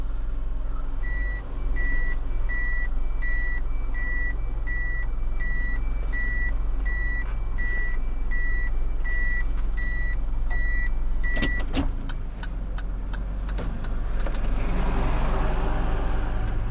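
A delivery truck's reversing alarm beeps steadily and evenly for about ten seconds over a loud idling engine rumble and traffic, then stops as the engine and road noise carry on.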